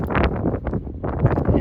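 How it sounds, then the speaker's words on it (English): Gusty wind buffeting the microphone on a lake, low rumbling bursts that rise and fall close up with no voices. "it's just pretty windy on this part of the lake"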